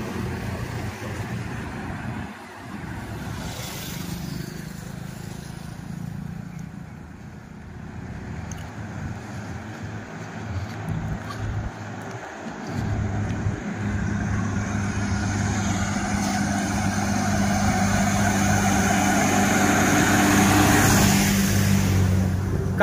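Motor vehicles pass along a narrow road where another vehicle sits broken down. A continuous engine rumble dips briefly, then grows louder and nearer over the second half, with no speech.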